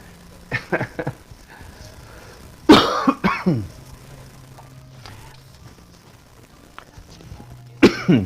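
Several harsh coughs from a nearby person, a short burst early on, a heavier fit in the middle, and another cough at the end.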